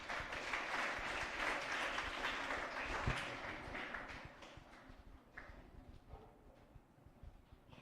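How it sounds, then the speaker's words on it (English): Audience at a sustainable tourism presentation giving a round of applause, dense clapping that starts strong and gradually thins out and fades over several seconds. "a clap for her, please"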